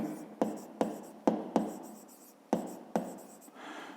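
A pen taps and scratches on paper while a math exercise is worked out by hand, with a series of distinct close strokes at irregular intervals, quiet and without talk.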